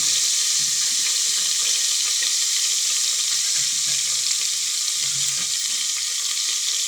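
Garlic, cinnamon and spices sizzle in hot oil for a tempering, a steady close-up frying hiss with faint stirring clatter, no voices.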